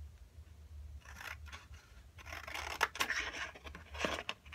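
Scissors cut paper sentiments for a mini album, producing a quiet series of crisp snips and rustles close by, irregular and soft over a low steady hum.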